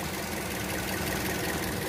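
A used car's engine idles, checked by ear for roughness, a steady close, even mechanical rumble with a faint ticking texture and no speech.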